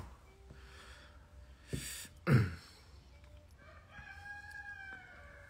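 A rooster crows in the early afternoon, heard through an open window at a distance. A short rough burst comes first, then a long wavering crow at low, steady volume.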